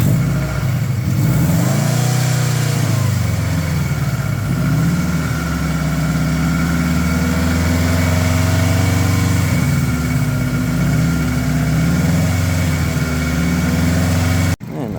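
A car engine held at a raised, steady rev of about 2,500 RPM during a carbon cleaning, a continuous close drone with slight wavering in pitch that cuts off abruptly at the end.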